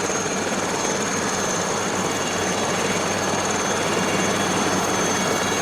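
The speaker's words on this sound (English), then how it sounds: "It's a lovely little helicopter, this." Steady, loud rotor and engine drone of an SA315B Lama helicopter in flight, constant throughout with a high whine on top, no talking.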